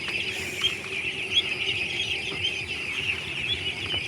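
A flock of ducks on a duck farm quacking and squabbling at night feeding time in a continuous noisy chorus, close by, with no talking.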